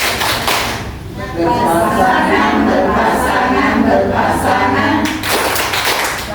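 A group of adults at a family-guidance meeting claps a patterned rhythm while chanting together, producing loud, dense claps that run continuously under the voices.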